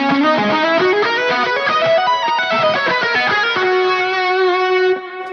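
Electric guitar played through fuzz and stereo chorus on an Axe-Fx III, single notes and lines sounding chewy and clipped with a wide shimmer, loud and sustained for about five seconds before fading at the end.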